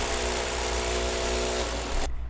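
A power drill bores into concrete while anchor holes are made for a sliding door installation, giving a loud, steady whining grind that runs continuously and then cuts off abruptly near the end.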